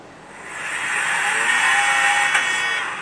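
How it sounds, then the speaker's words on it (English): A Mazda RX-7 rotary engine climbs in revs toward its factory rev limiter buzzer, a rising high whine that holds near the top with a steady tone, fairly loud and alone. "RX-7 rev limit, like factory rev limiter beep or something like that."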